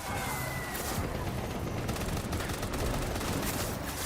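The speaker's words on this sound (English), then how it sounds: "Oh, they're shooting me." Enemy gunfire in the video game Death Stranding, rapid continuous automatic shots filling the whole stretch as a dense, steady rattle, with no pause and no talking over it.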